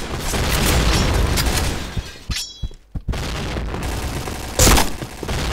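In the online shooter Point Blank, a grenade explodes amid dense, continuous gunfire: loud broadband blasts and rattling shots, a brief near-silent gap, then a sharp heavy burst near the end.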